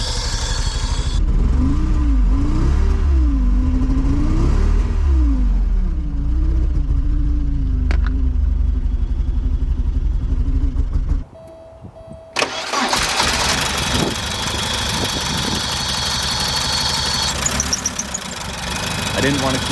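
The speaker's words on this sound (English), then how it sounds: "I didn't want to keep the engine running too much as it's creating a lot of smoke off the exhaust manifold" A Porsche 944 engine runs after a crankshaft position sensor install, with a steady mid-pitched idle and some knocking, a brief drop near the middle, then a revving restart, all loud and close with speech in places.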